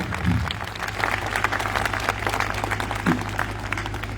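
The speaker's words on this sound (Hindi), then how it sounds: "आप लोग जोरदार तालियों से इन बच्चों का उत्साहन करें।" Sustained audience applause at a school function, clapping for schoolchildren from a senior secondary school during a building inauguration ceremony; dense, steady hand-clapping fills the whole stretch with a faint voice briefly underneath.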